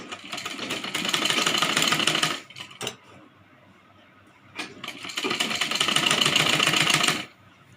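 A sewing machine stitching a Rajputi kanchali, running in two steady, loud bursts of rapid stitching separated by a quieter pause with a couple of brief clicks, no talking.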